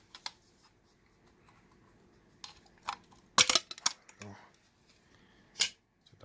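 An AP80 AK22 rifle is taken apart by hand, producing scattered sharp metallic clicks and clacks with quiet gaps, including a brief loud cluster of snaps midway.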